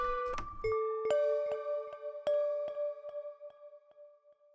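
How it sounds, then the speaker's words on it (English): Bright synthetic bell tones in an FL Studio trap beat, several struck notes ringing out and decaying in a spaced accent pattern, clear and alone with no voices. "Just some other bells to accent what we already got going on."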